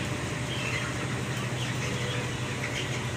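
Twenty-three-day-old broiler chickens on a poultry farm crowd around water, their soft clucks and chirps blending into a steady, faint flock murmur with a low hum beneath.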